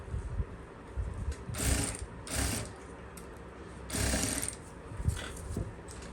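A sewing machine stitches lace onto a neckline in several short, separate mechanical runs, each a clattering whir lasting under a second, with faint handling noises between them.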